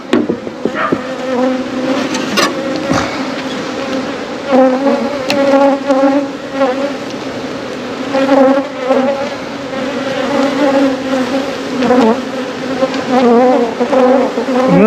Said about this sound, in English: Tons of bees everywhere.